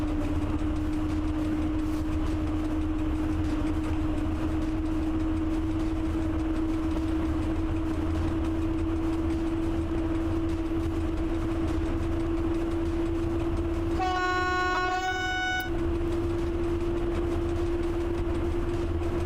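A train runs along in the video game Train Driver 2, its steady engine drone and rumbling wheels continuous throughout, with a brief chiming horn or crossing signal near the end.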